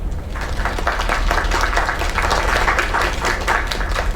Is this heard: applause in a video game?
yes